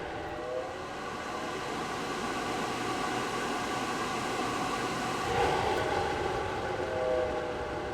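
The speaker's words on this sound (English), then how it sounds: "Let me flip the mic around towards the fan, so you can hear what I'm talking about." The inline fan of a Mars Hydro TSL2000 grow kit runs with a steady, airy whoosh and low hum, fairly quiet and constant, with a slight swell midway.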